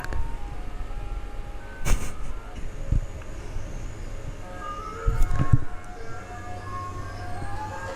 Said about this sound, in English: Can you guys hear the ice cream truck?